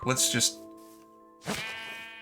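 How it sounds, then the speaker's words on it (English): Sheep in a video game bleat twice in quick succession, loud and close. After a short pause comes a third, longer, slightly wavering bleat. No talk is audible. "Also, here's some sheep."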